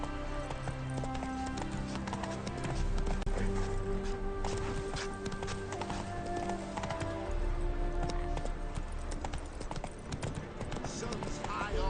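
Roach the horse galloping in The Witcher 3 video game, a steady rhythmic run of hoof clops on the ground, close and continuous, under game music and a voice.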